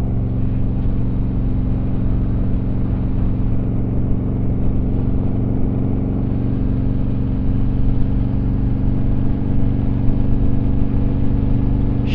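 A group of Harley-Davidson motorcycles, including a 2020 Road Glide S, cruise at an easy pace along a highway, a steady, loud, low engine drone and wind rumble running without a break and without talk.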